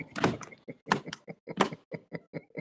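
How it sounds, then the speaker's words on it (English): A FedEx delivery driver knocks on a house door with a quick, uneven series of sharp raps of varying strength, close and clear, with no talking. "The FedEx man knocks at the wrong time everywhere, doesn't he?"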